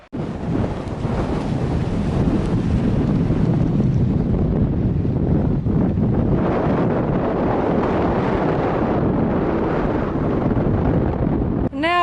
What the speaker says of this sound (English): I'm not sure if I've mentioned just how windy it is. It's ridiculously windy.